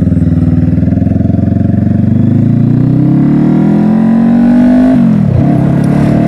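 Honda CBR500R motorcycle fitted with a 17-tooth sprocket and bigger tire accelerating on a Sunday morning ride, steady loud engine drone rising in pitch through a gear, then a brief dip as it shifts.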